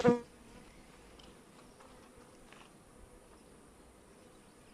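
Caucasian honey bees hum at an opened hive, a faint, continuous buzzing drone throughout after a brief sharp knock at the start.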